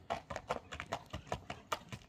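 Hooves of a horse being ridden clip-clop in a quick, steady rhythm, faint and fairly close, with no voices over them.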